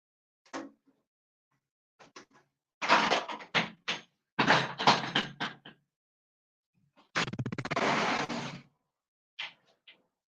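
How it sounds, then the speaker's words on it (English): A door being opened at home, heard as a series of close clunks, rattles and scraping bursts spread over several seconds with short silences between, no talking. "Let me open up this door."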